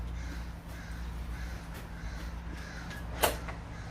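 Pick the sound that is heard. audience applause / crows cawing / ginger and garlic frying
crows cawing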